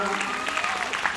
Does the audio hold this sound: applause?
yes